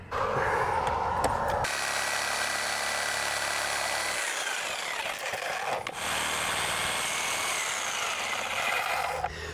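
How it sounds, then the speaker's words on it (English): A corded reciprocating saw cuts up through a bathroom ceiling during a shower renovation, giving a loud, steady buzzing rasp that stops briefly partway and then resumes, close by with no talking. "now we grab the Sawzall"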